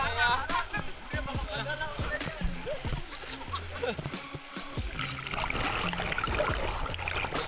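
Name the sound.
strong river waves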